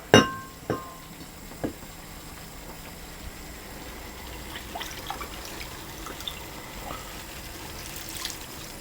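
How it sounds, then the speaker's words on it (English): Stock trickles and drips into a pot of veal shanks after a few sharp knocks at the start, a soft, steady pour with small splashes. "I'm going to pour in my stock"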